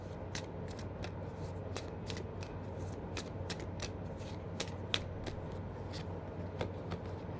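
An Angel Answers oracle card deck is handled and shuffled in a quiet room, giving a steady run of sharp riffling snaps and soft card rustles throughout, close and fairly quiet, with no talking.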